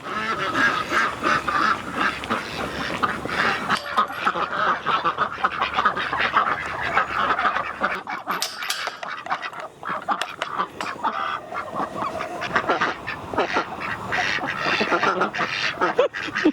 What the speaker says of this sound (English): Hey, duck, duck, duck, ducks.